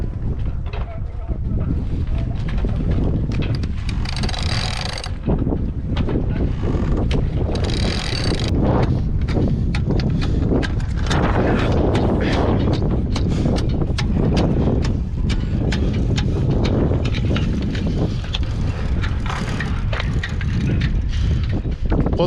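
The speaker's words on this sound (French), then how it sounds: "il y a beaucoup de vent aujourd'hui" Strong Mediterranean wind buffets a sailboat, a constant rough roar with gusty crackling and knocking throughout, while people speak over it.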